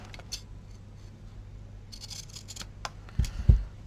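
Scissors trimming material for a handmade flag: a few soft, quiet snips spread across the moment, ending in a couple of sharper close clicks, with no talking.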